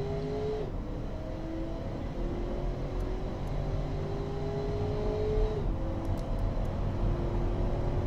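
A 2008 Athena SL8 car in the game Automation accelerates hard in a steady, loud engine drone, pitch climbing through several gear changes over about eight seconds, with no voices.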